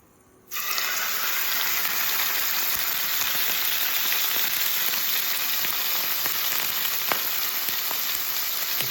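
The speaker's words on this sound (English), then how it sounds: "So I'm just going to stick my steak in." Steak dropped into a hot pan on an invisible induction hob bursts into a loud, steady searing sizzle after a quiet start and keeps hissing close and even with occasional pops.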